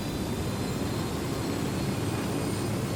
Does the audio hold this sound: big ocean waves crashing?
no